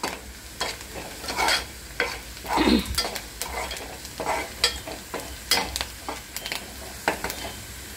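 Chopped onion frying in a pan for kaleji masala, sizzling steadily as a spoon repeatedly scrapes and stirs it, with irregular clatters against the pan throughout.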